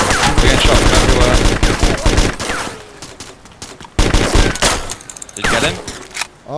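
Heavy gunfire in the survival video game DayZ: dense bursts of automatic fire and rapid shots crackle loudly, easing briefly in the middle before fresh volleys erupt near and far.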